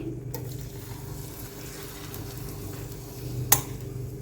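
Omelette egg mixture poured into a preheated, oil-greased pan gives a steady, soft sizzle with a faint low hum beneath it, ending in one sharp clink of a utensil near the end.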